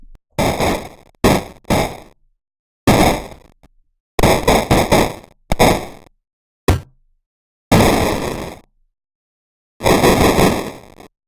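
Bitcrushed 8-bit style weapon sounds: gunshots, impacts, glass breaking and machine-gun fire, harsh and gritty. They arrive as loud blocky bursts, some single and some in rapid clusters, with longer sustained noisy blasts and silent gaps between them.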